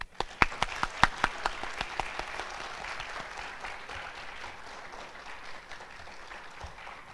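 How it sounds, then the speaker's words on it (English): Audience at a school band awards ceremony applauding band and guard teachers, opening with a few sharp distinct claps that swell into a sustained, even roar of clapping from a moderately sized crowd. "huge applause right now"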